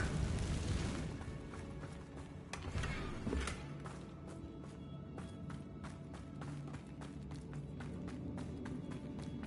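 A Confringo blasting spell from Hogwarts Legacy detonates in a loud burst near the start, followed by a few more thuds and crackling impacts, then lower rumbling game ambience with footsteps.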